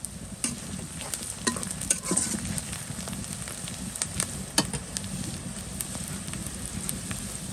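Green chilies, onion, cinnamon and cardamom fry in oil in a pan, a continuous close sizzle with occasional clicks of stirring and no voices.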